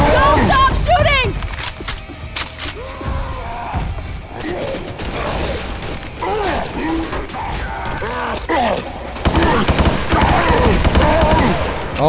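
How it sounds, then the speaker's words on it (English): Rapid gunfire bursts from Left 4 Dead 2 crackle almost nonstop and loud, mixed with mechanical reloading clatter and excited shouting voices throughout. "Don't stop shooting!"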